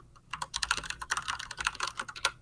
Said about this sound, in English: as you can probably hear my mechanical keyboard ticking in the background.